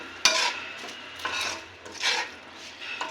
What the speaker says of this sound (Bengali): এইভাবে ভালোভাবে নাড়াচাড়া করে এটাকে মিশিয়ে নিতে হবে